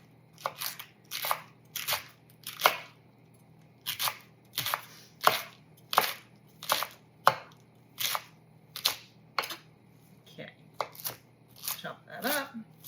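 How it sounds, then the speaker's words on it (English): A knife chops cooked turkey pieces thinly on a cutting board, sharp crunchy strikes in a steady rhythm, about a dozen close chops with brief pauses between bursts. "take those pieces that were difficult to shred, and I'm going to just chop them up with a knife thinly"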